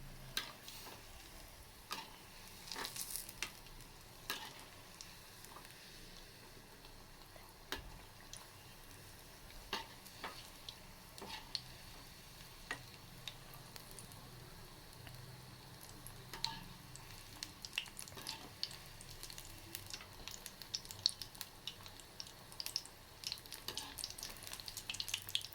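Vermicelli roasting slowly in a pan over a low flame, a faint, soft crackle with intermittent ticks and stirring clicks scattered irregularly throughout, quiet and close.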